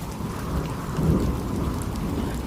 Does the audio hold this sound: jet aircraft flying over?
no